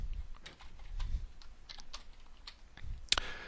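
Typing on a computer keyboard, with rapid, close, irregular key clicks and a firmer keystroke near the end; no talk.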